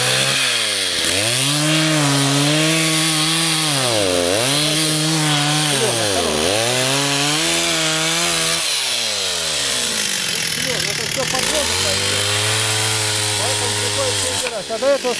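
A chainsaw cuts trees beside a pond, its engine loud and close, rising and falling in pitch through repeated cutting passes and bogging down as the chain bites into the wood.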